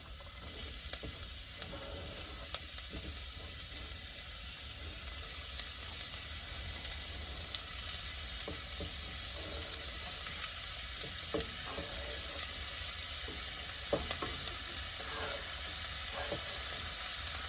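One large red onion sizzles in a hot pan with a steady, close frying hiss, broken by occasional soft clicks and scrapes of stirring.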